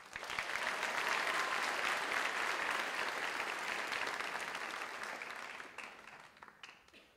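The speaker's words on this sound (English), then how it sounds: "Give a round of applause." Audience applause for a scholarship recipient, a sustained wash of clapping that swells early, then thins and fades out over several seconds.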